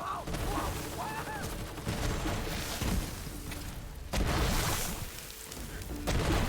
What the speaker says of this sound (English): This SMG kicks ass.